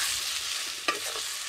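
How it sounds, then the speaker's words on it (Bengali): Village-style mutton kosha masala stir-fries until light brown, a steady close sizzle with a sharp scrape of a spatula against the pan near the middle. "এবারে এটাকে হালকা ব্রাউন কালার হওয়া পর্যন্ত ভালো করে ভাজছি।"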